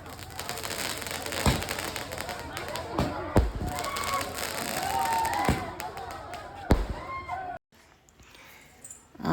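Firecrackers burst during a village Ganesh festival procession, sharp cracks and pops scattered irregularly at close to mid distance over a noisy crowd, with people talking throughout.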